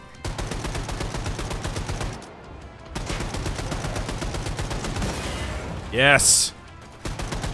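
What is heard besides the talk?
gunfire in the video game Wolfenstein 2: The New Colossus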